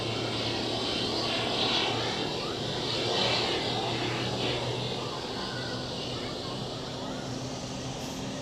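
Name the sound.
aircraft taxiing at Zurich Airport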